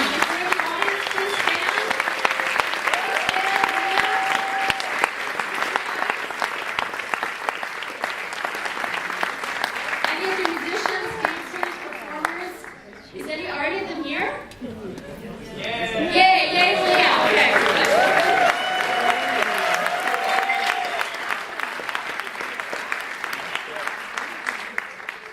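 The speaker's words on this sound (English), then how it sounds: "Let's give a round of applause to those wonderful musicians." Audience applause for a group of musicians at an evening talk event, a dense sustained clapping wash across the whole stretch, briefly thinning midway before swelling again, with some voices mixed in.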